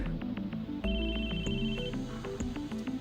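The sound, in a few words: phone ringing in video game Chaos;Head NoAH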